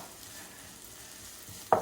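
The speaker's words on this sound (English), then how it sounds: "So now I'm going to saute all of this together." Vegetables for pasta primavera sautéing in a pan, a soft steady sizzle close by, ending with a brief louder stir or scrape.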